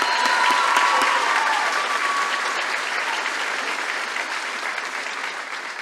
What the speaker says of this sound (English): Let's give all the young ladies a round of applause